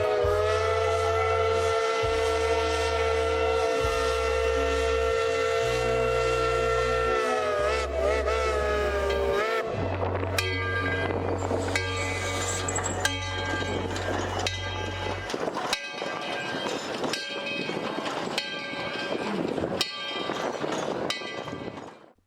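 Steam locomotive No. 12 of the East Tennessee and Western North Carolina Railroad at the Tweetsie Railroad theme park in Boone, North Carolina blows a long, loud chime whistle in several blasts, then chuffs and clanks along with steady rhythmic exhaust and metallic rattling.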